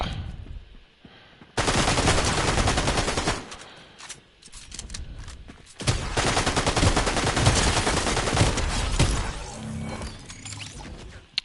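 Shotgun fire in a first-person shooter game, loud dense bursts of blasts in two long stretches with a brief lull between, close and harsh, no talk over it.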